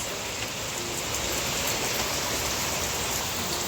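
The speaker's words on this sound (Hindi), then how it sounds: "वाह क्या बारिश है, ये देखो जम के हो रही है बारिश।" Heavy rain pours down in a dense, constant hiss, steady and loud with no pauses.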